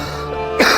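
A single short cough or throat clear from a sick husband, close and fairly loud, ending in a rougher burst.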